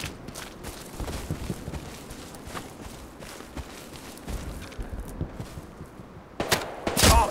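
Gunfire in the World War II shooter Hell Let Loose, with scattered shots and shuffling footsteps at a moderate distance, ending in a louder close burst of shooting.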